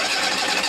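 The generator on a 2021 Grand Design Momentum 397TH RV runs right after startup, a steady close mechanical whir with an even, buzzing texture and no voices.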